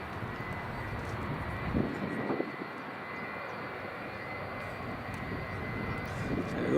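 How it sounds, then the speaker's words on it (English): A Norwegian airliner taxis slowly in to its stand at Edinburgh Airport, its engines giving a steady, distant whine and rumble that holds the whole time. "It's a Norwegian just taxiing in on the stand"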